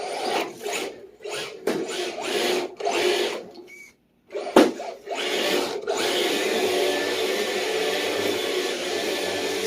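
A Vaterra V100 RC car motor runs in uneven revving bursts with a brief drop-out, then settles into a steady, vacuum-like whine that holds loud and close to the end.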